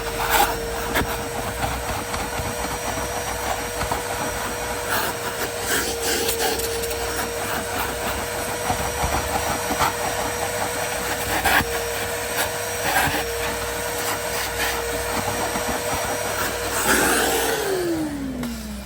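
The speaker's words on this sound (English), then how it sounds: "we're going to start off actually vacuuming out the carpet with my DeWalt wet and dry vacuum" A DeWalt wet and dry vacuum cleaner hums continuously at close range, with scraping and rattling bursts as it sucks debris from a car's carpet mat, ending with a falling whine.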